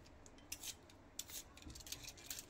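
A metal peeler scrapes the skin off a potato in a home kitchen, giving short, quiet rasping strokes that come in irregular bursts, close by and faint, with no one speaking.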